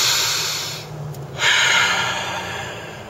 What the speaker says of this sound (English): Take a deep breath right now with me